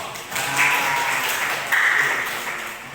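Students clapping their hands in a classroom Islamic studies lesson, a short burst of scattered claps swelling, easing, then swelling again over about three seconds, moderately loud with a faint voice beneath.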